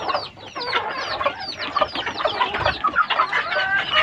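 Boxed labuyo chickens, native wild fowl being shipped to Apalit, Pampanga, cluck and squawk continuously in a dense, overlapping chorus, close and fairly loud, with busy chattering calls throughout.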